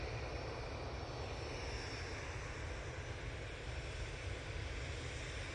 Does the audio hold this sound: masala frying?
no